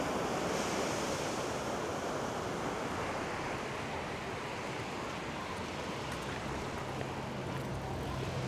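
Sea waves roll and break continuously at Can Pastilla beach in Mallorca, a steady broadband surf wash with wind buffeting the microphone and no talk.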